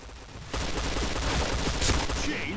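Rapid bursts of gunfire from a first-person shooter game ring out loud and dense for most of the stretch, following a quieter opening moment.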